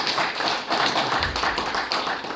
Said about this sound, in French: Est-ce qu'on peut applaudir notre Dieu?